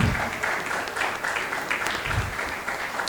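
An audience at a Calabar tech mixer applauds to welcome a company CEO, steady dense clapping that holds from start to finish.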